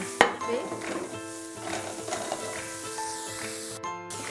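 Carrots are added to a frying pan for a vegetarian meatloaf, giving a close, moderate sizzle with scrapes and clinks of stirring against the pan throughout, with no speech over it.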